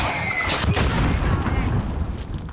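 Mortar fire in the Call of Duty Modern Warfare video game, loud and continuous with heavy low rumbling booms and blasts filling the whole moment, layered with battle noise.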